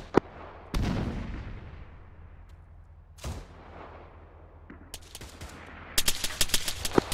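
Gunfire in a modern military video game: a few sharp isolated shots and a heavier blast early on, then a quick volley of close cracks near the end over a low steady background.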